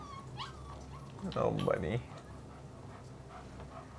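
A dog whimpers and yips briefly inside the video game Life is Strange 2, a short whiny burst in the middle, with a person speaking around it.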